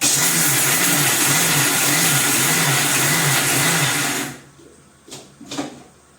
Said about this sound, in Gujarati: એને મિક્સરમાં આપણે અધકચરા પીસી લઈશું